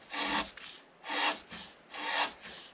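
A gouge held flat side down scrapes through wood in three steady strokes, each a soft rasping shave, close and quiet with no talk.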